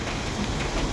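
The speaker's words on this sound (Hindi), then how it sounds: "और बारिश पड़ रही है बहुत ख़तरनाक" Heavy rain pours steadily on a Himalayan mountain road, a dense, close hiss filling the whole moment with no voices over it.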